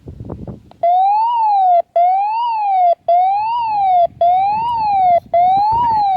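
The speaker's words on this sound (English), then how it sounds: "to activate the siren, you hold down the test button, obviously, for like 2 seconds" A Midland WR11 weather radio sounds its test siren, a loud close electronic tone warbling up and down in repeating cycles with brief gaps, after a short stretch of handling noise.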